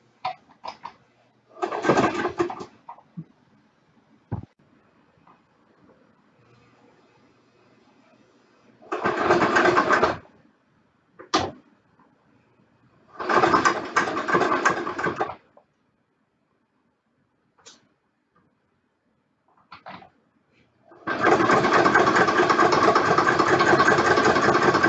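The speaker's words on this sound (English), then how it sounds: "I am here at the sewing machine where I will start by stitching few stitches and then back stitch" Sewing machine stitching a shirt facing for a hook-and-eye closure, running in several loud buzzing bursts of a second or two separated by quiet pauses, with the longest continuous run of stitching at the end.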